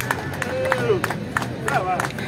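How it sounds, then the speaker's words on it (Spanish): A crowd claps in applause at a lively Peruvian gathering, a steady wash of clapping with voices and whistles mixed in throughout. "Un aplauso para eso."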